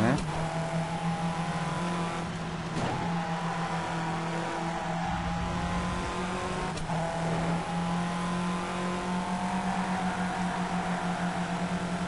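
Race cars in TOCA Race Driver 3 drone steadily, their engines humming close and continuous with brief whooshes of passing cars, while someone talks over the engine noise.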